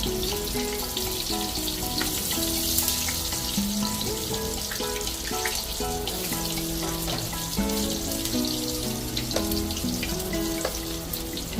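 Tortang talong, an eggplant omelette, fries in a pan with a continuous crackling sizzle and dense spattering pops close by, steady throughout with no speech.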